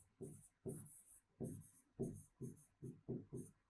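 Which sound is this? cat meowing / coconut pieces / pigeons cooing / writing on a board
writing on a board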